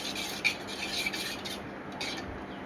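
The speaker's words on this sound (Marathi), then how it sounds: "याला छान ढवळून घेऊ." Spoon stirring sorghum flour and water in a bowl, soft repeated scraping and rubbing strokes with light clinks, quiet and close, with no voices.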